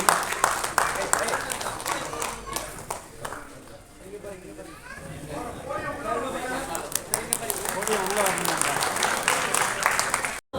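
An audience applauds at a Tamil film audio launch event for Ram Abdullah Antony. Dense clapping swells and fades around a quieter middle stretch, and voices talk over it.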